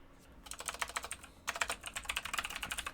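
Rapid clicking of a computer keyboard during work on a fighting game in Unreal Engine, two close bursts of keystrokes separated by a brief pause, steady and alone with no talk.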